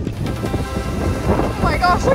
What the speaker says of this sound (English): we're still hiking in the rain